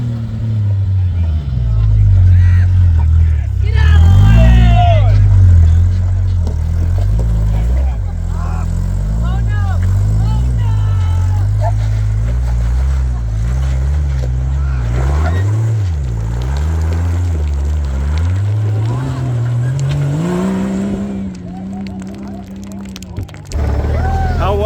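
A low-slung Jeep YJ race build drives with its engine droning loud and close, the pitch rising and falling as it revs, while people talk over it.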